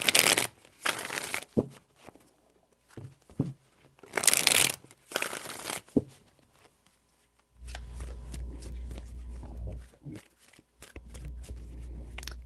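Tarot cards are shuffled in bursts of riffling and slapping, several loud flurries early, then a steadier soft rustle with a low rumble underneath, close by and without talk.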